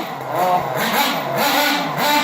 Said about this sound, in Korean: 또 엔진은 엔진대로 또 느낌이 있죠.